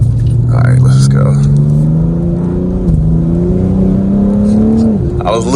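A BMW M4 accelerating on gravel, its engine note climbing steadily through two gear changes, loud and close from inside the car, with a voice speaking over it.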